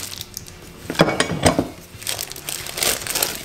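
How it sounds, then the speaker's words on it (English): A burger patty is pressed in a patty press between sheets of wax paper, giving close crinkling and crunching paper sounds with a few sharper clicks, steady and alone with no talk. "Put it in the press, top and bottom with wax paper."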